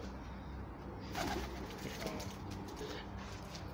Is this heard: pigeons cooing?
yes